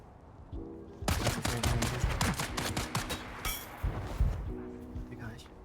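Rapid bursts of video game shooter gunfire crackle through a firefight, with clustered shots and short pauses, and players talk over the action.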